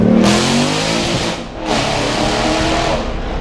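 A Singer-modified Porsche 911 of the 964 generation with carbon composite bodywork launches off the start line at Goodwood Festival of Speed, its engine loud and close, revving hard through two rising pulls with a brief gear-change dip between them.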